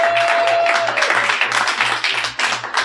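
Audience applause fills a large theater during an improv comedy festival show, steady clapping throughout with a faint hum underneath.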